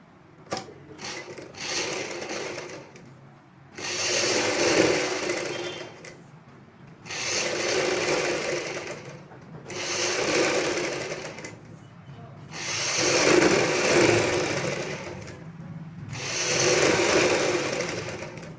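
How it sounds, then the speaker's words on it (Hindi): A sewing machine stitches buckram along a choli neckline in repeated bursts of fast whirring, each run lasting a few seconds and separated by short pauses. "इस गले को पलटने के लिए बुकरम के साथ साथ सिलाई लगानी है"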